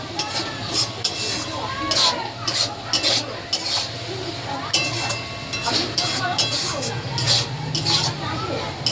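Onion, ginger and garlic masala with a little turmeric sizzles in a pan while a spatula scrapes and clinks against the metal in repeated strokes, close by, with a voice talking at times over the cooking.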